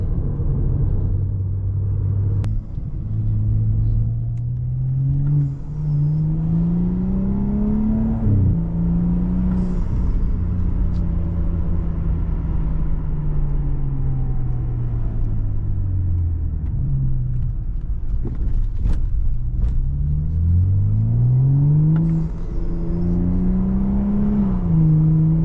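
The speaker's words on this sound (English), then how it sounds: "That spool will never get old" A turbocharged BMW spools and whistles while being driven. The engine drone rises and falls through repeated climbs in pitch as the car accelerates and shifts, with a loud, close cabin rumble underneath.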